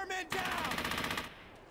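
A machine gun in the World War II game Brothers in Arms: Hell's Highway fires a rapid, evenly spaced burst of shots at moderate loudness, preceded by a short clipped sound.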